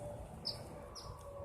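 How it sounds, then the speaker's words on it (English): A parent bird calls frantically near a nest full of chicks, giving two short, high, thin cries about half a second apart. The calls are moderately close and sound over a steady low background rumble. "But the sort of frantic sounding bird"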